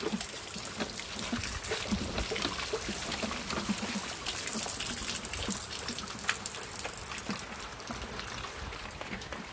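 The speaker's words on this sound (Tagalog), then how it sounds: "Lakas mo ng tulo." Water gushes hard from the end of a long 100-foot pipe, a loud, continuous rushing and splashing that stays steady and unbroken from start to finish, heard up close.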